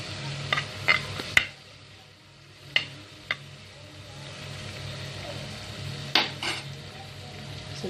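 Peppercorns frying in a pan for Kerala-style mutton stew, a soft steady sizzle under scattered clinks and scrapes of a spoon against the pan, with a few sharper knocks.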